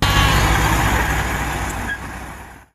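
Truck sound effect for a toy dump truck: a loud, steady engine rumble with a hissing air-brake-like release near the end, heard alone without talk before cutting off abruptly.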